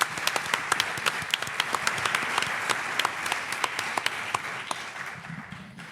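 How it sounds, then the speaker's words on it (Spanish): Studio audience on a Spanish TV show applauds a guest, steady mid-level clapping with distinct sharp individual claps standing out, fading slightly toward the end. "Un aplauso para Marcelino Requejo."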